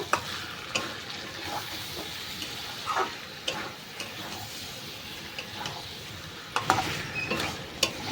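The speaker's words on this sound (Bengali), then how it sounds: "টক দইটা দিয়ে ভালো করে মিশিয়ে নেব।" Sour yogurt being stirred into pan-fried pointed gourd (potol) for a vegetarian Bengali dish, a soft steady sizzle under intermittent scraping strokes of the spoon against the pan, close and fairly quiet, with no talking.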